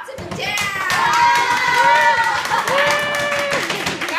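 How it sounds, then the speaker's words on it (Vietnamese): A crowd at a 2017 birthday gathering claps and cheers, with children shouting and a voice calling out over the applause, loud and close throughout. "chúng ta thêm một tràng pháo tay"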